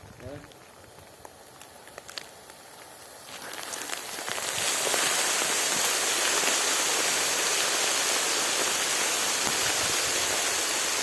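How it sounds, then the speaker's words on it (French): Flowing river water rushing steadily, a broad hiss that swells louder after a few seconds and then holds close and continuous, with faint earlier sounds and brief voices near the start. "Ça fait un bruit de rivière."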